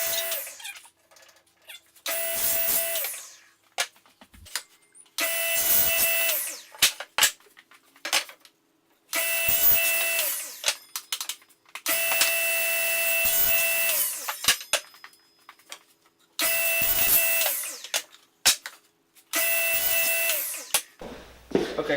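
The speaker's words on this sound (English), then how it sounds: "just chop up these 2x4s into 36-inch lengths" A power saw cuts 2x4 lumber into 36-inch lengths: six loud, sustained sawing passes of a few seconds each, separated by short pauses with clunks and board handling noises.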